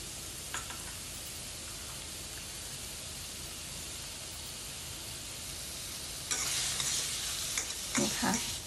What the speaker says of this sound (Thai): ผัดหรือว่าล้วนจนกว่าเนื้อหมูจะสุกดีค่ะ